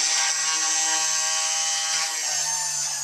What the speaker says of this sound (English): turn the PCB drill on